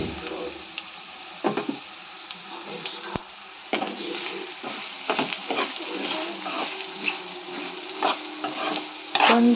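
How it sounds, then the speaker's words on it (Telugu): Gongura leaves and chutney ingredients fry in a pan, a continuous close sizzle broken by frequent stirring scrapes and clatters, with faint talk underneath. "ప్రస్తుతానికి వేగించేద్దాం"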